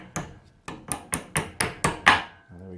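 A hammer striking a punch to seat a circlip on a universal joint: seven sharp metallic blows in a steady rhythm, close and loud, with a brief voice at the very end.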